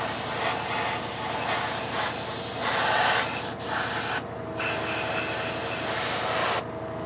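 Aerosol spray paint hisses steadily onto an F-14 scale model for a light first coat, a close, continuous rush broken by brief pauses between passes.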